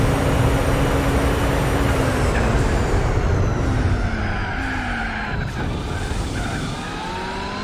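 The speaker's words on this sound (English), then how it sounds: "You love the sound of the R89, do you, Joe?" Race car in Gran Turismo 4, likely the R89 driven from cockpit view: loud, sustained tire squeal and skidding over a revving engine whose pitch climbs and falls through gear changes, with no talk.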